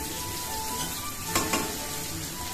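Garlic and green chilies fry in oil for a jute-leaf dish, a steady close sizzle with one brief bright scrape of a spatula partway through, no speech.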